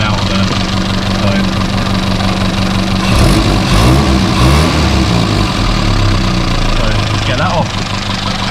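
A classic Mini Clubman estate engine idles with an exhaust leak at a small clamp, a steady loud rumble with a puffing, blowing edge and a slight swell midway, while someone talks over it.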